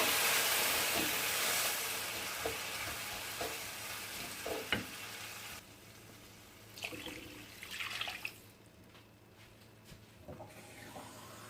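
Water being poured into a pot of rice and vermicelli cooking on the stove, a loud sustained splashing rush with sizzling and stirring scrapes that fades down to a quieter simmer, with no talking.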